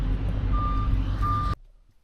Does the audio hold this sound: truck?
yes